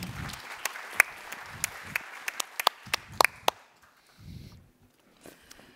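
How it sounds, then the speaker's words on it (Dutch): Scattered claps from a small seated audience at a livestreamed talk in Knokke-Heist, a few sharp individual hand claps standing out over low murmuring voices, fading to quiet near the end. "Uw applaus voor Karel Fonteyne"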